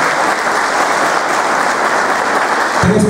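An audience at a municipal swearing-in ceremony applauds, a dense, steady wash of clapping from a crowd lasting throughout.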